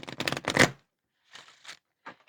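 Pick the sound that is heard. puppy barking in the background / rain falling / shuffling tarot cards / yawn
shuffling tarot cards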